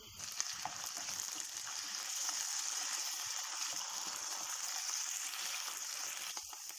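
Steady hissing sizzle of potatoes frying in hot oil, close up and continuous, with faint scraping stirs and no talking.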